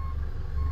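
A reversing beep tone from a Dodge CNT900 truck in a truck-driving video game, steady and fairly clear over a low engine rumble.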